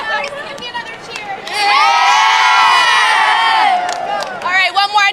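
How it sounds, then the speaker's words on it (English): A group of children cheers and shouts on the floor of the New York Stock Exchange, rising into a loud sustained roar for a couple of seconds before tapering off into scattered whoops and voices. "Give me another cheer."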